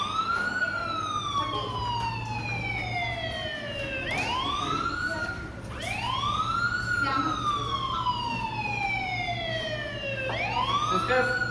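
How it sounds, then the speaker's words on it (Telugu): Wailing ambulance siren during a hospital Code Yellow mock drill, sweeping down then rising again in repeated long cycles, loud and steady over a low road hum. "already ambulance వచ్చినట్టున్నాయి"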